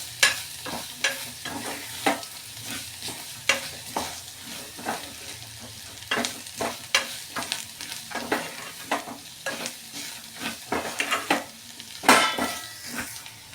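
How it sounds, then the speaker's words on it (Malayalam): Turmeric powder fries in a pan while a utensil stirs it, giving a steady sizzle under repeated scraping and clinking strokes against the pan. "മഞ്ഞൾപ്പൊടി ചേർക്കുന്നുണ്ട്. നന്നായിട്ടിത് മൂപ്പിച്ചെടുക്കുകയാണ് നന്നായിട്ട്."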